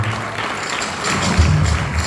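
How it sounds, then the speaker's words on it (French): A live audience applauds loudly and steadily after being urged to cheer, a dense wash of clapping that holds for a couple of seconds. "Est-ce qu'on peut acclamer encore très fort?"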